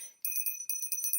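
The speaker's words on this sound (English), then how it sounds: "next up we got our copper bell, also from the White Lady Witch shop" A small copper bell from a witch shop rings in quick repeated strikes, bright shimmering tones with a steady high ring, close and clear with no talk.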